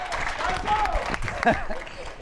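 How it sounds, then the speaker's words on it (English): An audience applauds speakers at a business conference, a dense wash of clapping mixed with crowd noise and a bit of voice, fading toward the end. "Can we give a round of applause to Carl and David"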